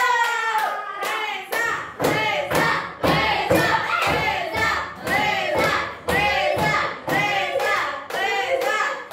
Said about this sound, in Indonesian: Sekarang Reza, tepuk tangan untuk Reza.